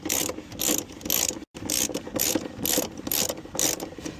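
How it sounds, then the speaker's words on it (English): Ratchet wrench tightening the front battery hold-down bolts on a Porsche Cayenne, a rapid run of close, loud metallic clicks in repeated bursts with one brief pause near the middle. "Last two steps require securing the two bolts at the front"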